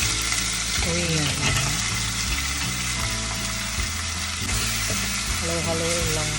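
Garden vegetables with pork and cream sizzling steadily in a pan while being stirred, a continuous loud frying hiss with scraping stir strokes, and faint music playing underneath.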